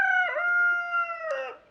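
A Chantecler rooster gives one clear, close crow with a sustained tonal middle and a falling finish, no talk over it.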